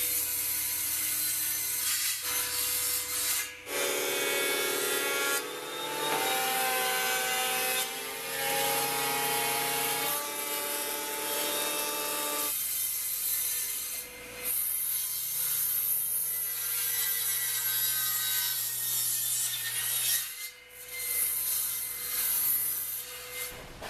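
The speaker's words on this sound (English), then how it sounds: "next I need to cut the spruce parts" A table saw rips spruce construction lumber with a steady, loud whining drone that shifts in pitch as the blade bites and frees the wood, running continuously with brief dips between passes.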